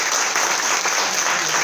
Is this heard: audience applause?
yes